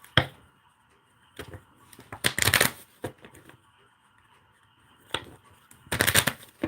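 Oracle romance tarot cards being shuffled by hand in bursts, with quick riffling rattles separated by quiet pauses, close and crisp, with no talking.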